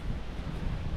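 Wind gusts across the microphone on a hiking trail on a cool, breezy morning after a storm, giving a short burst of loud, low, buffeting rush with no voices.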